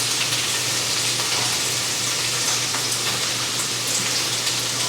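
Onions sizzling in butter in a hot pan, a steady dense hiss and crackle with no pauses, close and fairly loud, no talking.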